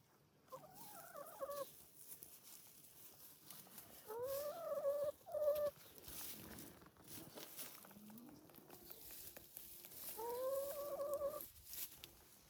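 A backyard chicken in Cornwall clucks in short, rising calls, recurring in three bursts at close range with soft movement and rustling between them.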